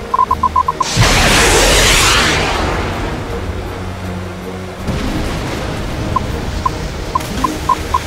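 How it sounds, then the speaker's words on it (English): Missiles fired in a video game sound as a loud, close whooshing roar that swells, fades, then bursts again, with short electronic beeps before and after. "choose the right trigger to fire missiles."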